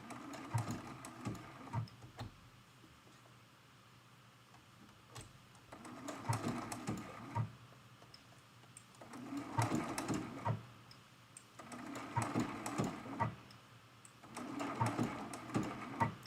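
Sewing machine stitching through fabric for a quilted mug rug, running in several short bursts of a few seconds each with quiet pauses between, moderately faint and close.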